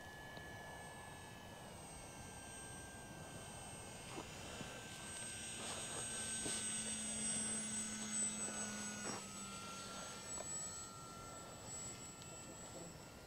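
Eclipson Model C v2 model airplane flying outdoors on a windy day, a steady distant motor whine with shifting pitch that swells and fades as it passes, continuous throughout with wind noise underneath.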